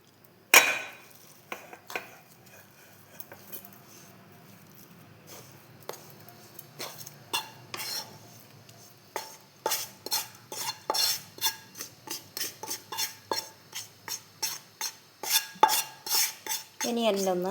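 Hot homemade sweet being transferred from the cooking pot into a ghee-greased vessel, with sparse clinks at first, then a steady run of sharp metallic scrapes and taps of a utensil against the pot, close and fairly loud.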